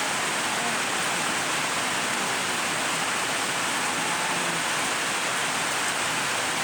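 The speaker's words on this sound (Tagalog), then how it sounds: "ulan guys, malakas ang ulan." Heavy rain pours down in a dense, unbroken hiss, loud and steady throughout, with no voices and no pauses.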